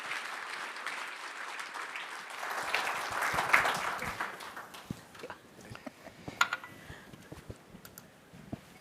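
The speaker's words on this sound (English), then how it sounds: "Big round of applause for all three of them." Applause from a hotel-industry conference audience at Hospace 2023 swells to a dense peak around the middle, then thins into scattered individual claps as it fades.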